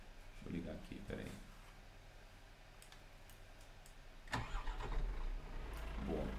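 Truck engine starting in the video game Euro Truck Simulator 2, clicks, then an engine cranking and catching into a low steady idle, with someone talking briefly over the start.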